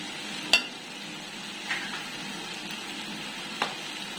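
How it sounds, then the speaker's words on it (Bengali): Ground coriander, turmeric and chili powders fry in a pan for a jackfruit dish, a soft continuous sizzle with three distinct spatula knocks against the pan, close and quiet. "এবার এটা ভালো করে কষাতে হবে।"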